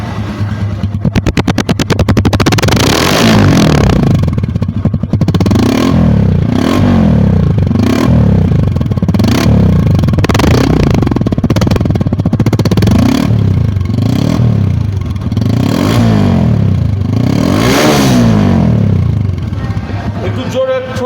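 An Apache 160cc motorcycle engine is revved hard again and again, each throttle blip rising and falling in a regular rhythm over a loud, close idle with mechanical clatter.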